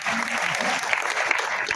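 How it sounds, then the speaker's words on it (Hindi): Audience clapping at a business plan meeting in Thane, a short burst of steady, dense applause from a crowd, with someone speaking briefly at the start. "एक ताली होनी चाहिए"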